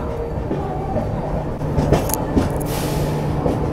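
The Rupashi Bangla Express, train 12883, rolls into Kharagpur Junction, a steady low rumble of carriages with a few sharp clanks and squeals on the rails.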